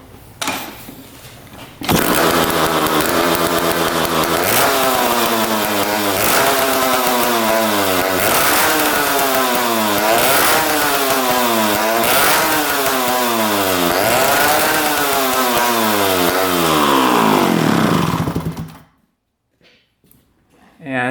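Honda dirt bike engine with the exhaust pipe removed revs hard and repeatedly, a very loud, raw, unmuffled roar that rises and falls in rhythmic blips before cutting off into near silence.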